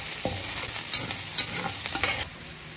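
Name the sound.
garlic sautéing in a pan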